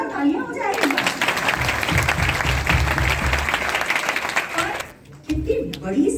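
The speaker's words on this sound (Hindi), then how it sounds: "जोरदार तालियां हो जाएगी" An audience at a Modicare business meeting in Andheri West, Mumbai breaks into loud, dense applause that runs for about four seconds and then stops abruptly, with a voice speaking before and after it.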